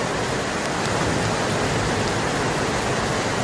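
Heavy rain pouring in Delhi, a dense, steady hiss of downpour drumming on surfaces close by, loud and unbroken without any voices.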